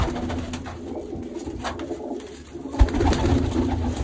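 Pigeons coo softly and repeatedly close by as birds are released to fly from an outdoor loft, over a constant hiss of background noise with a brief thump near the end.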